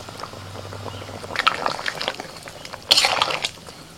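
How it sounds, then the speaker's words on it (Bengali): Kasuri methi and ghee dropped into simmering aloo dum curry with cashew and poppy seed paste: soft wet bubbling and a brief liquid splash and sizzle near the end, close and fairly quiet. "এবার দিয়ে দিচ্ছি আমি কসুরি মেথি আর হাফ চামচ ঘি দিচ্ছি।"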